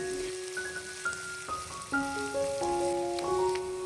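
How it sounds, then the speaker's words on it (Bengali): Onions sizzle steadily in hot oil with a fine, continuous crackle as they brown, while soft tonal music plays underneath. "এখন আমি পেঁয়াজটাকে তেলের মধ্যে দিয়ে দিলাম পেঁয়াজটাকে আমি এখন ব্রাউন করে ভেজে নেব"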